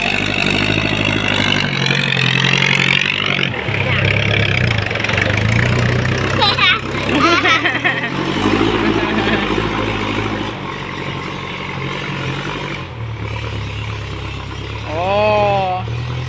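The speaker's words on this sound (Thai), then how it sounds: "มาแล้ว รถไถมาแล้ว" A farm tractor engine runs steadily at close range, a low rumbling chug continuing throughout the clip while people talk over it, with the engine note rising briefly near the end.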